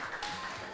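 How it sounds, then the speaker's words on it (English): Audience applause for Jamaica at the OECS Super Regional Challenge closing ceremony: a brief, steady wash of clapping from a crowd, fairly even in level throughout. "Now I think Jamaica deserves a bigger round of applause."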